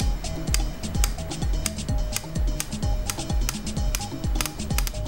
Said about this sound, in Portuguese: apertando aqui o sistema, vamos poder ouvir os cliques